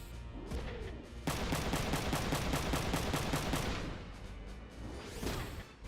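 Mech gunfire in Front Mission 3 comes as a fast, loud stream of evenly spaced shots lasting several seconds, with whooshing sweeps before and after the burst.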